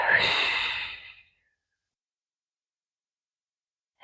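A forceful breath pushed out during a gentle somatic Pilates floor exercise, a single loud, close, airy exhale lasting about a second, followed by silence and a brief sound starting at the end.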